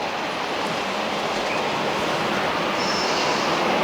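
A model railway locomotive, a large class 47 loco at a traction depot layout, running and braking: a continuous loud mechanical rumble and rolling drone with faint high squeals of wheels, close and alone without speech.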